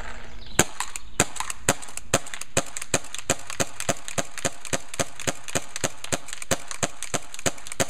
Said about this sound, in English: I got a 2K right feed autococker pump, and I'm gonna shoot real quick